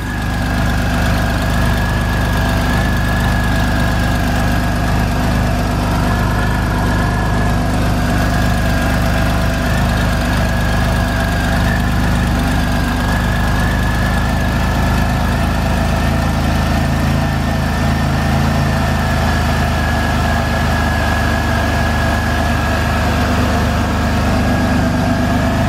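A 2000 Pontiac Firebird with a 3.8 engine and 146,062 miles idling steadily, a loud, even low rumble with a constant whine on top, close and alone for the whole stretch.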